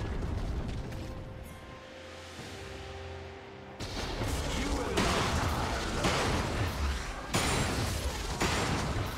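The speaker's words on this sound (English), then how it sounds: "Red Team's turret has been destroyed." Turret destruction in League of Legends rendered as a heavy game explosion, with dense booming blasts and rumbling debris that build and then come in loud repeated surges, mixed over music and game effects.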